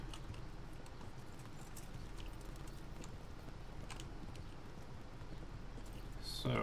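Horse hooves clip-clop steadily in the medieval video game Kingdom Come Deliverance, a rhythmic series of moderate hoofbeats over a soft ambient bed.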